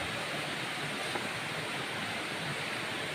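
Continuous rushing of flowing stream water, a steady broadband wash without pauses or voices.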